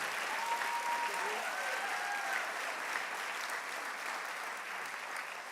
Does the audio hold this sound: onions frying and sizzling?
no